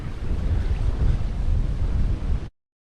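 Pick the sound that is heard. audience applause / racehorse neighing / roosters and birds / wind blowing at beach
wind blowing at beach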